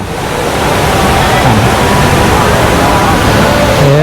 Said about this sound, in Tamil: இது சிங்கப்பூர் ஏர்போர்ட்டில் இருக்கிற ஃபவுண்டெயின் இதுலேருந்து தான் தண்ணி இப்போ கீழே கொட்டிகிட்டு இருந்தது